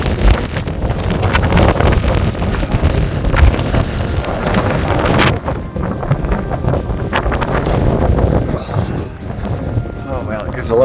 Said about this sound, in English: the wind's coming from the north, heading south